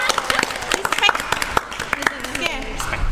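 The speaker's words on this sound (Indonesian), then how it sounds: "Tepuk tangan dong." Short burst of audience clapping at an informal Indonesian talk show, a few scattered claps rising over a murmuring crowd, with voices heard over it.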